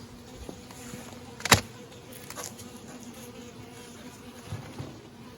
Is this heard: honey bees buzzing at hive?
yes